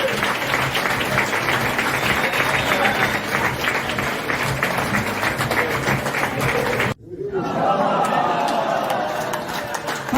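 An audience at a stand-up comedy show in Edinburgh claps loudly and steadily in a dense wash, breaks off abruptly, then starts up again with cheering mixed in and a voice speaking over the applause.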